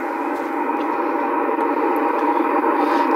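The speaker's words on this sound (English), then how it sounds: "Just a lot of static." Steady broadband radio static hiss on upper sideband below 150 kHz, a continuous even noise with no voice or signal breaking through, filling the whole stretch at constant loudness.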